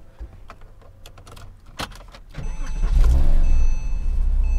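A 2006 Porsche Cayman S with Tiptronic transmission cranks and fires up, settling into a steady, loud idle after a few clicks and rustles from the cabin.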